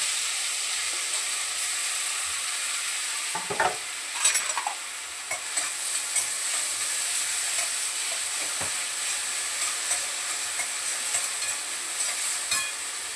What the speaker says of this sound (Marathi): आता काय कांदा परतून घेते थोडासा.